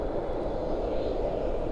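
Airliner jet engines at Dallas/Fort Worth airport at night: a steady, loud, broad roar that holds evenly throughout, with no talking over it.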